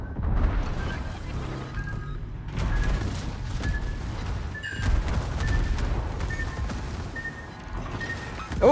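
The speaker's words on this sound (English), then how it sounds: "Oh, torpedo hits!" Torpedo hits and heavy naval combat in a warship video game: dense, continuous rumbling booms and overlapping gunfire that stays loud throughout, with a few sharper impacts breaking through the constant battle noise.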